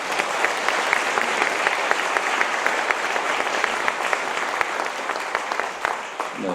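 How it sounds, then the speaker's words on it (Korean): An audience at a Korean presidential candidate's event claps loudly and steadily, a dense wash of many hands with sharper individual claps poking through, easing slightly near the end. "다음은 대선 후보님을 모시고 큰 박수 한번 부탁드리겠습니다"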